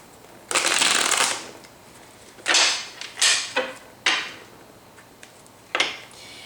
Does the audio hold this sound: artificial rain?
no